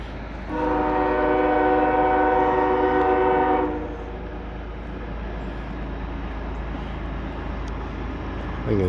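A CSX freight train hauling coal during a snowstorm at Bartholows, Maryland, sounds a long multi-tone horn blast for about three seconds over a steady low rumble of the rolling train, which continues alone afterward.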